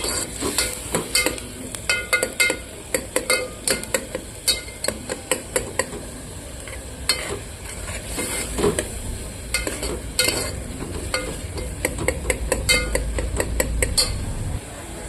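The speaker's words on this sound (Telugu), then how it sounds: "మధ్య మధ్యలో కలబెడుతూ ఉండాలి, లేకపోతే మాడిపోద్ది." A spoon repeatedly scrapes and clinks against a pan while ridge gourd and moong dal curry is stirred, the contact taps coming in an uneven rhythm over a steady low sizzle. They sound close and fairly loud, and no one speaks.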